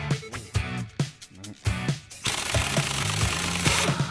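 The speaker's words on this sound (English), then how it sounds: "we can undo the big nut on the lower pulley and remove it" On a Ford Focus ST, an impact gun loosens the big nut on the lower pulley: loud hammering bursts in short repeated pulses, then a sustained rattling whirr, close by and with no talking.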